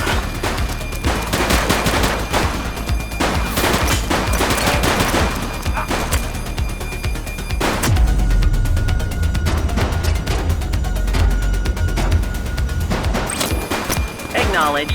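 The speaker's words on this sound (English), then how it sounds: "Shots fired!" Sustained gunfire in the police video game The Precinct, rapid shots crackling loud and close over about fifteen seconds, with heavier booms near the middle and a voice talking over the shooting.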